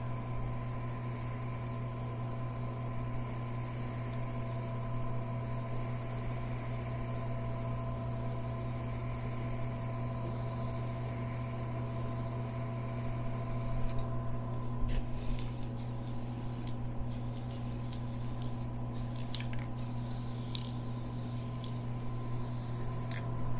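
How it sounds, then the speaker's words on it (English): Varnish sprayed onto a painting, a soft steady hiss over a constant background hum, with short bursts of spray near the end. "We're going to throw some varnish on our painting."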